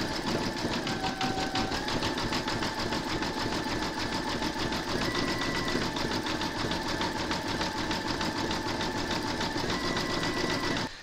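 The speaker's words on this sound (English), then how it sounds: "You're now going to stitch round number 9, and that's going to do the zigzagging around the border here" An embroidery sewing machine zigzag-stitching an applique border runs steadily at close range, a fast, even mechanical hum with rapid needle clatter that continues without pause for the whole stretch.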